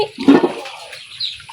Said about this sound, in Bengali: চাইপা চাইপা আমি